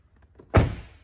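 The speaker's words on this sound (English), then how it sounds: "If your dash isn't lit up, you can go ahead and close," One solid car door thunk on a Buick Regal, close and brief, alone in a quiet space.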